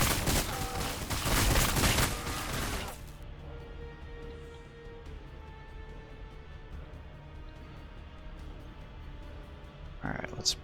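Units trade gunfire in Warhammer Battlesector, a dense fusillade of rapid shots for a few seconds before fading into quiet ambience, with one brief burst near the end.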